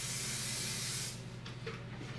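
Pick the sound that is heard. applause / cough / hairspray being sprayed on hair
hairspray being sprayed on hair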